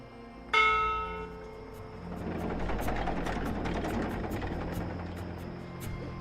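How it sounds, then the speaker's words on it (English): A ship's bell on a cloud ship in Dreamfall Chapters rings once with a loud, clear metallic strike and a ringing decay, then a steady mechanical whirring engine drone builds up beneath faint ticking. "From what I've learned traveling on cloud ships, this is a ship's bell."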